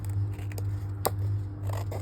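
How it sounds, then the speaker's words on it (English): Scissors snip through craft material for bauble-making, giving a few short, crisp cuts spaced about half a second apart, close and fairly quiet. "just tilt your scissors"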